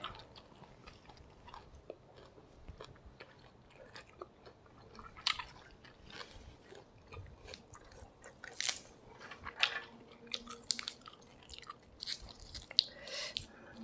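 Close, crisp chewing and crunching of bamboo shoots and pennywort leaves eaten with chili paste, irregular wet bites and munching growing louder toward the end, with no talking.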